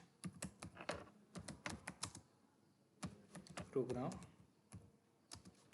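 Assembly language code being typed on a computer keyboard in Keil software, with bursts of quick, close key clicks separated by short pauses while a voice speaks over the typing.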